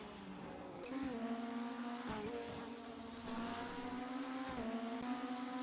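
Race cars in a racing video game lap the Imola circuit, with engines droning at steady pitch, gear shifts dipping and climbing, and short tyre squeals, loud and continuous with nothing else over them.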